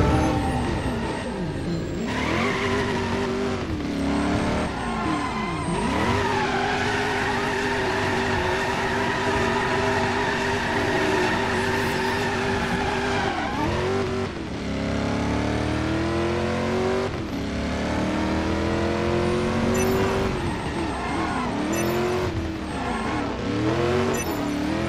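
An engine roars at full throttle in Driver: San Francisco, repeatedly surging and dropping as the car shifts gears, loud and sustained throughout with a brief dip near the middle.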